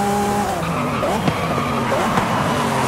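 Tires skid and squeal under braking on a Lamborghini Countach LPI 800-4 in Forza Horizon 5, a sustained loud screech over the steady engine drone, with a couple of sharper bursts along the way.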